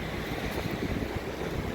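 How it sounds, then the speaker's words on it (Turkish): Strong wind gusting through the city streets of Novi Sad on a blustery morning, a steady loud roar of wind buffeting the microphone with no pauses. "çok rüzgarlı."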